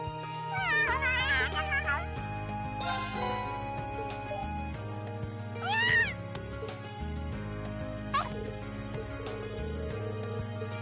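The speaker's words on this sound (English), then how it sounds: "This fucking Sundir cat." A cat in the video game Trails of Cold Steel meows repeatedly in rising, wavering calls over a looping background melody, several distinct meows spread across the stretch.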